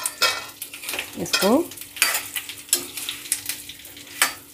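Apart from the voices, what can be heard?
raw mango being stirred and fried in a pan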